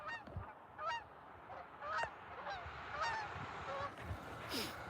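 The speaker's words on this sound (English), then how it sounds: "You guys want to see a flock of Canada geese going west?" A flock of Canada geese flying west gives repeated overlapping honks, a steady ragged chorus of calls heard from a moderate distance over rural background noise.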